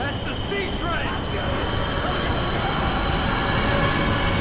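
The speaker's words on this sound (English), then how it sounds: "the 5th train that's gone by" A passing train, a C train on a subway line, rumbles steadily with dense low-frequency roar and some high screech, loud and continuous throughout, with voices faintly present beneath.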